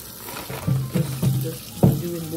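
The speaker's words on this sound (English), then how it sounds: "I'm just running some water over these because they're really hard." Tap water runs over hard oxtail pieces in a kitchen sink, a close, uneven splashing and gurgling with several louder bursts as the flow hits the meat, with no speech.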